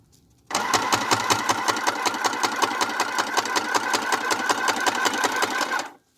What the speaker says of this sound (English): this sewing machine is pretty heavy duty